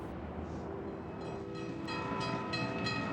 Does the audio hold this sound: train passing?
yes